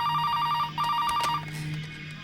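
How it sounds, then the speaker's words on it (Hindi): A telephone rings in a film scene, a repeated electronic trill in two bursts over a low steady hum, moderately loud and without talk. "फोन बज रहा है, उठा ले।"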